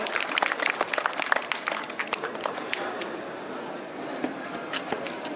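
An audience applauds NCC cadets at an Independence Day ceremony at MANUU in Hyderabad, a dense, steady patter of many hands clapping throughout, moderately loud with crowd ambience.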